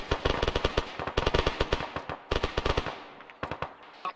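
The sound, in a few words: gunfire from a bunker during field training exercise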